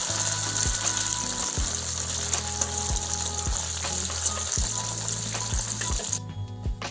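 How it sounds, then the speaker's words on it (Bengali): Fish frying in a pan just after being turned over, a steady close sizzle and crackle running throughout, with repeated low thumping from construction work nearby underneath. "এবারে আমি মাছটা উল্টে দেব।"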